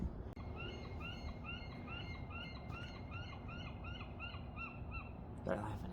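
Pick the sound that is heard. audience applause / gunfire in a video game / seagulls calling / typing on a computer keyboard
seagulls calling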